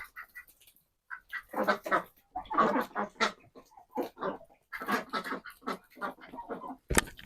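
Several ducks quack and gabble in bursts while feeding on ripe papaya, with slapping, splashing noises and a sharp knock at the end.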